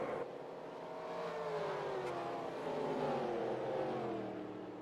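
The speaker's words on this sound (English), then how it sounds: "you could just hear how that car just steps out on him" A racing truck's engine, heard onboard at Rockingham, revs and wavers in pitch as the rear steps out and loses grip, loud and continuous with no voices.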